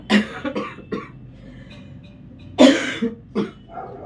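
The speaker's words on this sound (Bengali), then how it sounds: "খুব বেশিক্ষণ কথা বললে এরকম কাশি চলে আসছে" A person coughs several times in two bursts, close and fairly loud, with a quiet pause between them.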